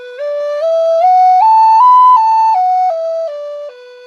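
Native American flute playing a slow stepwise exercise, pure breathy tones climbing note by note to a peak and then stepping back down in reverse, each note held about half a second, clear and close with no talk.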